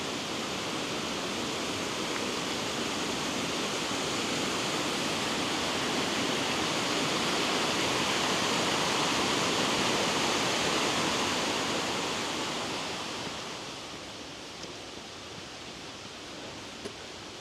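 Laxey waterfall on the Isle of Man pours in a steady broadband rush, loud and constant at close range, then eases and grows slightly quieter near the end, with no voices.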